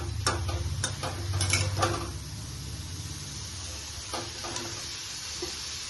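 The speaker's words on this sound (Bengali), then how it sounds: "পনিরগুলোকে একটু ভেজে তুলে নেব এখন।" Paneer pieces frying in a pan for biryani, with a faint, low sizzle and several sharp clicks from a utensil knocking the pan, the clinking busiest at the start.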